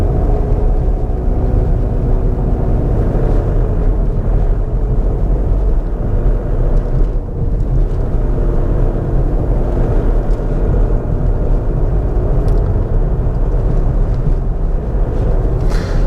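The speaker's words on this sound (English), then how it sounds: "There's a little bit of diesel rattle, but it's okay." A cold Volkswagen diesel engine rattles while the car drives over a bumpy road, a loud, steady low drone with rumble and clatter heard from inside the cabin.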